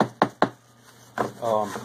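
Hard dried Chinese tree mushroom knocked twice in quick succession, sharp close taps, followed by a brief rustle and a short voiced sound.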